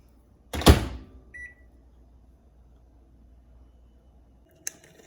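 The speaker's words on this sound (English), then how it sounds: "I make it in the microwave." A microwave door clunks shut, followed by a short electronic beep, a quiet low hum for a few seconds, then another soft click.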